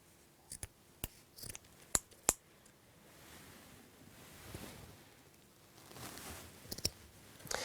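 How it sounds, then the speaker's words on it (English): Scissors snip through the two ends of a coiled cable in a series of sharp, close clicks and cuts, some in quick pairs, over a soft rushing background and handling noise. "coil it up like that and snip at both ends. In fact, I will do that now"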